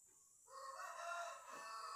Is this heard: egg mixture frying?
no